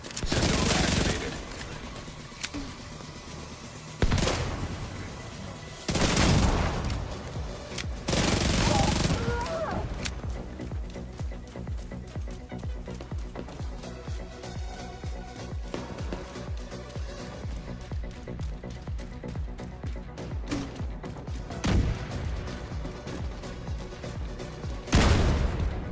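SMG gunfire in The Division 2: loud bursts of rapid automatic shots, separated by gaps, alongside a dense spell of continuous firing and impacts in the middle.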